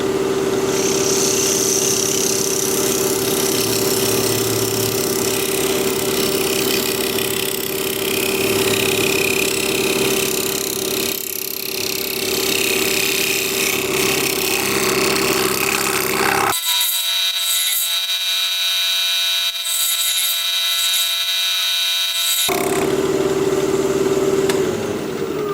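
Wood lathe spinning a dogwood dish at 2,000 RPM gives a steady motor hum and whine. The low end drops out for several seconds midway, then the full hum returns. No talking.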